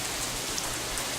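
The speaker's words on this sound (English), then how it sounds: "The rain keeps coming down harder and harder." Steady heavy rain falls on an asphalt road in the Katawa Shoujo video game, a dense, unbroken hiss with no voices.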